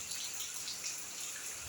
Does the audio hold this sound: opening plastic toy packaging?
no